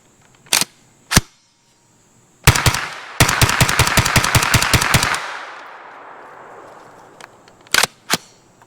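A Steyr AUG 9mm bullpup carbine firing a close, loud rapid string of about a dozen shots, with a few isolated single reports before and after and a fading echo.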